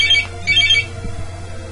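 Two quick bursts of a phone's electronic ringtone chirp at a steady level above a constant low background hum, then stop, leaving only the hum; no one speaks.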